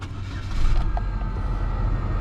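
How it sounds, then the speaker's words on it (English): A low-mileage car's engine turns over and settles into a steady idle, a dense low rumble that holds loud and close with no one speaking. "Let me start this car up for y'all"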